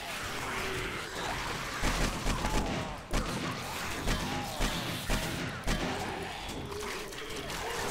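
Gunfire from the video game 7 Days to Die during a horde attack on a mini bunker: a dense, irregular run of sharp shots and impacts, clustered bursts with brief gaps, fairly loud throughout.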